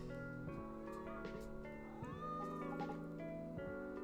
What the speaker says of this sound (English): Seems like there's a cat.